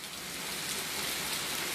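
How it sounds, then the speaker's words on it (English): Steady rain pours down on a stormy day, a dense, even hiss of drops spattering on surfaces that holds at a constant level throughout with no voices. "While all this rain coming down"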